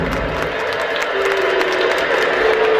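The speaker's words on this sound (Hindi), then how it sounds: "जोरदार ताली जरा बजाएं आप लोग के दोबारा।" Sustained applause from an audience at a school annual function, a dense, steady clapping texture that fills the whole stretch with light crowd murmur beneath.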